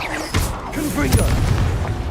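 Confringo explosive spell cast in Hogwarts Legacy, a booming blast with a sharp onset and rumbling tail, followed by further crackling impacts over game background sound.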